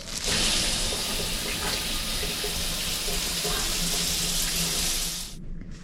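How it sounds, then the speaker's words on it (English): Shower water running in a hospital bathroom, a loud steady hiss of spray that continues evenly and then cuts off abruptly at the end. "And then I need to shower."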